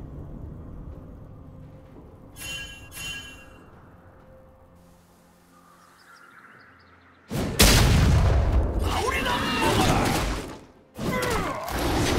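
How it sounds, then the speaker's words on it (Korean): A turret collapsing in League of Legends: a quiet lull with faint game sounds, then a sudden loud booming crash with rumbling debris that stops briefly and resumes. "빨간 팀의 포탑이 파괴되었습니다."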